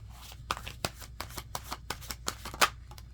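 Tarot cards being shuffled by hand, a series of crisp riffling bursts with sharp slaps and flutters in an irregular rhythm, close and fairly quiet, with no talking.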